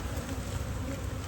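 Dense, steady buzz of many bees close around a hive after the colony swarmed, a continuous loud hum with no voices.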